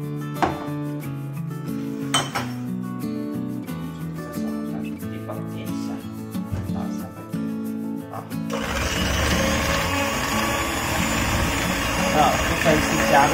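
An electric mixer whirs through walnut caramel rum cake batter, starting with a steady motor hum under background music, then rising into a louder, broader beating roar for the last few seconds.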